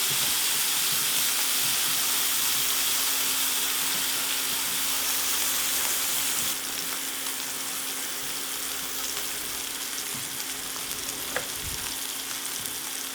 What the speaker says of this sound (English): we're just gonna place the steak right in the center of all of that